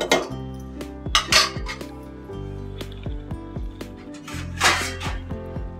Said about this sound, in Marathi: आता 2 मिनिटासाठी फक्त झाकण ठेवून देते